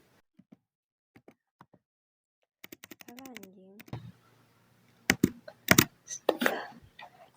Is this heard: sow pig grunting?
no